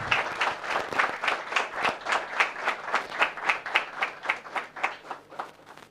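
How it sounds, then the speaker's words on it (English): An alumni meet audience applauds in a hall, a rhythmic wave of clapping from a modest crowd that pulses steadily for several seconds, close and lively with no talk over it. "can you please give a round of applause for everybody?"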